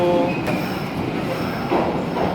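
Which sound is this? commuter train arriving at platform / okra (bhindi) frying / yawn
commuter train arriving at platform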